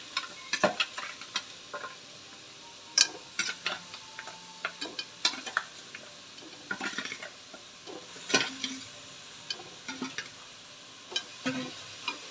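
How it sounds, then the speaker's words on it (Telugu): Water bird meat is stirred into fried onion paste in a pan, with soft sizzling under repeated scraping and clacking strokes of a spoon against the pan, close and irregular, with no talking. "ఇప్పుడు ఇందులో ఈ మాంసం వేసుకొని 2 మిక్స్ చేసుకొని బాగా కలుపుకోవాలి."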